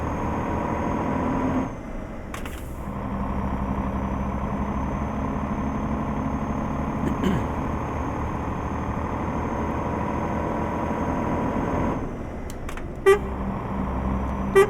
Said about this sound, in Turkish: Ve kornamız.